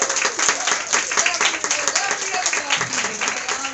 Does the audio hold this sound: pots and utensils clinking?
no